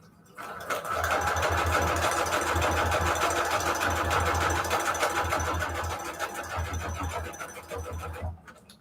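A sewing machine stitches paper signatures for a junk journal, running steadily with a fast rhythmic mechanical whir and needle chatter for several seconds before slowing and stopping.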